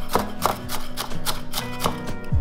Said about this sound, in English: I'm gonna go ahead and run the knife through these just to get them a little bit smaller.